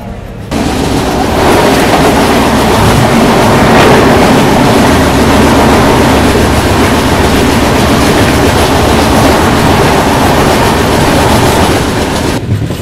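Visakha Express pulls away from platform 1 in a loud, continuous rumble of wheels and carriages, a dense steady roar that stays close throughout.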